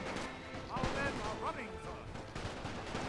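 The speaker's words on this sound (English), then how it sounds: "Get back on the machine guns." Rapid crackling gunfire rattles in a WWI-style Napoleon Total War battle, with machine guns chattering amid distant shots and faint voices, fairly quiet and continuous across the short stretch.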